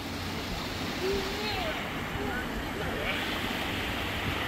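A motorboat speeding over sea waves off the Anapa beaches: a steady broadband rush of water and wind with engine rumble underneath, continuous and fairly close.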